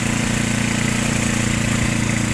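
Large John Deere snowblower engine running during a whiteout snowstorm, a steady loud mechanical drone with a fast even pulsing throb, close and unbroken throughout.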